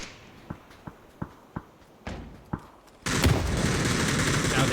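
A grenade goes off in a PUBG esports match, a sudden loud blast that leaves a sustained roar, after a run of quieter sharp shots and clicks.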